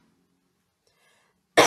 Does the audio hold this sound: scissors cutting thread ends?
no